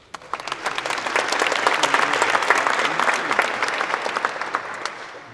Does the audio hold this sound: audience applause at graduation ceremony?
yes